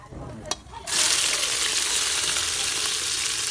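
Garlic, ginger and tripe dropped into hot oil burst into a loud, close sizzle after a short scrape and clink, the hiss holding steady and dense for several seconds.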